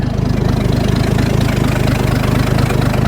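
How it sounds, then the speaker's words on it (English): An old Ford bullnose truck's 300 engine idles low and steady after a conversion from a one-barrel to a two-barrel carburetor, a close, even rhythmic chug that runs throughout without any talking. "The idle's a little bit low, but that's all right."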